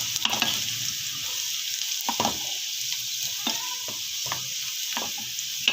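Garlic and cumin seeds fry in hot oil in a pan, a continuous bright sizzle with occasional stirring clinks and scrapes, close and alone.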